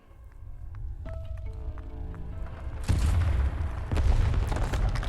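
Cannon fire in the Arknights video game lands as deep, heavy booms with a rumbling low end, building into a louder, dense blast around the midpoint and continuing as a sustained roar.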